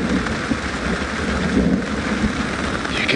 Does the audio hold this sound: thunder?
yes